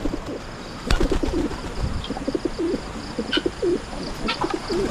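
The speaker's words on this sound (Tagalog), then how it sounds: "At yung mga kalapati natin, oh." Pigeons coo softly and repeatedly at close range, with low rumbling calls, occasional faint chirps and light rustling around them.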